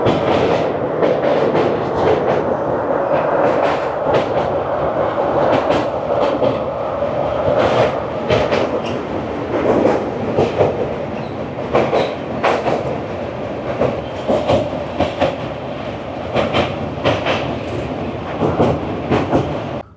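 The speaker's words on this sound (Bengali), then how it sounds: "রাত 11টা বেজে 8 মিনিট আমাদের ট্রেন পার করছে দক্ষিণেশ্বর স্টেশন।" A night passenger train from Kolkata to Prayagraj passes Dakshineswar with a loud, continuous rumble inside the carriage and a rhythmic clickety-clack of wheels over rail joints. No voices are heard.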